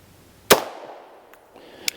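A single sharp, loud report from a Girsan 2311 Match 9mm double-stack pistol, followed by a fading ring and a faint metallic click just after.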